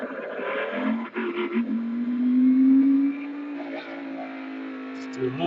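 A race car in the iRacing simulator pulls away from pit road, its engine note rising into a steady, loud drone that holds for a few seconds before easing off, with a voice talking over it.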